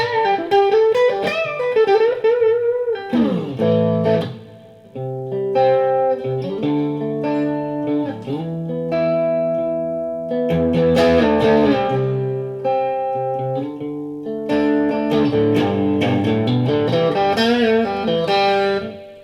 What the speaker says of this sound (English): Put on some reverb